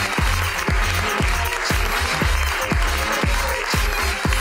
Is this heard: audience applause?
yes